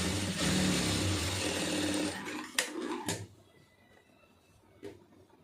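A sewing machine runs steadily while stitching fabric, a continuous close whirring for about two seconds, then a few sharp clicks and handling knocks as it stops, with a quieter pause between.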